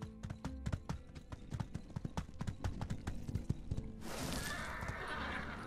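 Horse hooves clip-clop in a quick, irregular patter from the video game My Time at Sandrock, loud and close, then give way to a brighter, hissing wash of game ambience near the end.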